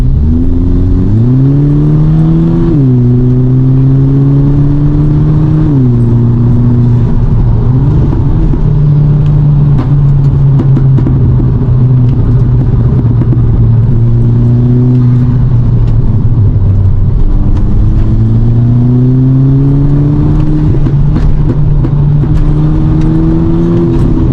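A Volkswagen Golf GTI MK5 with a DSG gearbox drives on the road, its engine loud and close, droning steadily and rising repeatedly through quick smooth gear changes.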